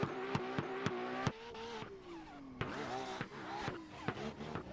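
A car in a drift video game roars loudly with sharp revving bursts, gear-change drops and tire squeal, the engine pitch sweeping up and down with no talk over it.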